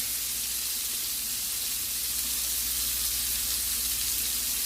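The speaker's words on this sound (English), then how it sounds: "Let's add in a little bit more butter." Scallops searing in a hot pan with fresh butter added, giving a steady, even sizzle and crackle at close range that holds constant throughout with no pauses.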